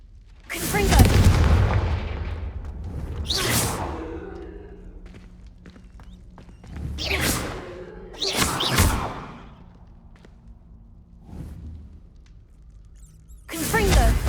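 A Confringo fire spell in Hogwarts Legacy bursts into several loud, booming explosions with whooshing tails, spaced a few seconds apart, and a speaking voice comes through between the blasts.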